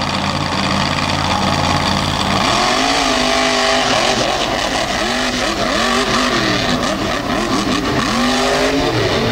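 Blown, injected drag race cars in a green pair sit on the starting line, then launch hard down the track, loud, with a sustained engine roar and rising revs.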